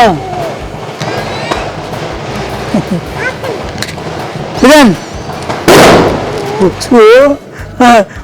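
Several loud firecracker bangs burst close by in quick succession while people talk and shout excitedly.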